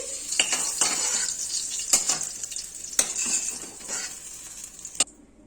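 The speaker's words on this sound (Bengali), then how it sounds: "এখন আমি বেগুনগুলো তুলে নিচ্ছি।" Fried eggplant pieces lifted out of a hot oil pan with a utensil, giving a steady close sizzle with several sharp metallic clinks against the pan, ending abruptly.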